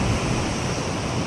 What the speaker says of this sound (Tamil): பீச்சுக்கு வந்தேன்